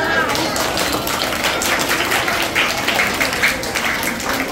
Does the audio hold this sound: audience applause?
yes